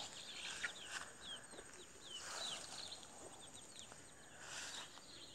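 Free-range village chickens on a farm in Palaran, Samarinda, give off faint, high, rapid peeping chirps in clusters over a soft, steady background hiss, heard from some distance.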